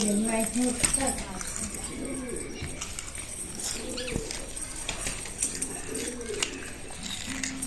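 Pigeons coo in a low, soft, repeated rhythm amid a busy setting, with occasional wing flaps and people talking over them.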